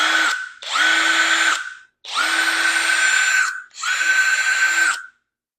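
A budget DeWalt-compatible cordless impact wrench runs in four bursts of steady high-pitched whirring and hammering, each lasting about a second or more, with short gaps between them. The sound is close and loud, and there is no talk.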